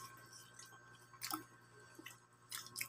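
Someone chews a mouthful of chicken afritada close to the microphone, a few soft, moist bites and squishes in quick bursts, faint and without talking.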